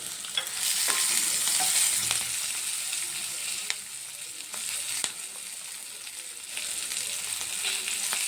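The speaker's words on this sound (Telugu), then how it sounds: "ఇప్పుడు ఇందులోనే ఒక కప్పు ఆనియన్స్ యాడ్ చేస్తున్నాను. ఇది బాగా ఫ్రై అవ్వాలి." A cup of chopped onions frying in a pan for palak egg curry, a steady bright sizzle with occasional spatula taps and scrapes, close and fairly loud.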